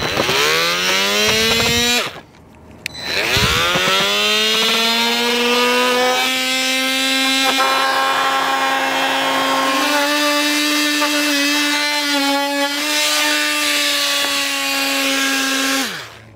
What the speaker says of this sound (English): I'm just gonna use a multi-tool to cut that out